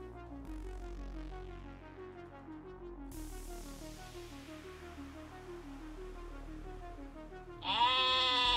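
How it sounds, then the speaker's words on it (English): Sheep bleat repeatedly in Raid: Shadow Legends after characters are turned into sheep, a run of overlapping wavering bleats over game music, ending in a louder, closer bleat. "There's just sheep all over the place"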